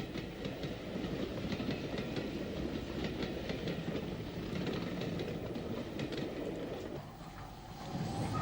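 A steam locomotive, S-Class number 60 Slieve Donard, hauls a train past in Ulster, with rhythmic clickety-clack of wheels over rail joints, a steady broad roar at moderate distance, no voices.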